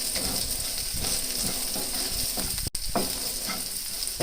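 Green chillies frying with salt in a pan give off a steady, close sizzle with faint stirring clicks running throughout.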